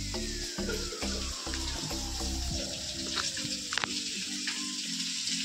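Hot oil sizzles steadily in a pan during home cooking with boiled potatoes and eggs, a loud continuous hiss with occasional clinks and a faint descending whine underneath.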